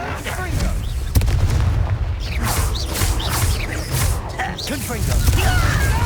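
Fiery Confringo spell explosions in the Hogwarts Legacy video game burst repeatedly, booming blasts and crackling debris layered with a game soundtrack and spell effects, while a voice shouts spell incantations over the action.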